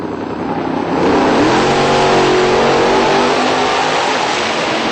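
A Vega Wagon and a Mustang launch off the line at a drag strip, two engines rising from idle into a loud, sustained rev that holds steady as the cars pull away.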